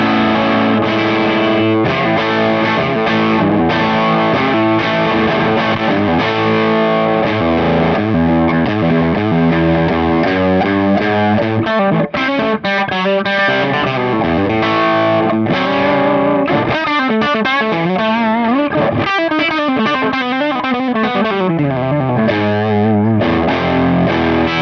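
Heavily distorted electric guitar tone through a plexi amp, played as a continuous stretch of riffs and sustained chords with thick, saturated harmonics, loud and alone throughout.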